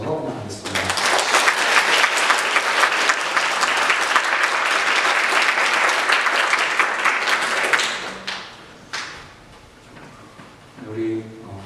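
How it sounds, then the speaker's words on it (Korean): Church congregation applauding to welcome a visiting missionary during a service, a loud, dense burst of clapping for around seven seconds that then fades out, followed by a few scattered claps and faint voices. "잠깐 일어나시면 저희가 박수로 환영하겠습니다."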